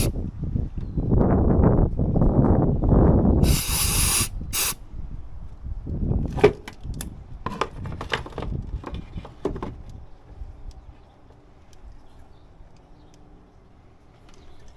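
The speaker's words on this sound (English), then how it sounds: "we'll spray some of the mass airflow sensor cleaner." Mass airflow sensor cleaner sprays from an aerosol can onto the sensor of a stuttering Toyota RAV4, in a couple of sharp, loud hissing bursts among nearby clatter before things quiet down.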